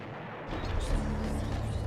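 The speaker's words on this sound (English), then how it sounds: "more like weirdly sounding knocking on doors, but is actually gunfire" Gunfire in the horror game Eternal Darkness, a run of dull, thudding shots like knocking on doors, starting after a short quiet gap and continuing loud and steady to the end.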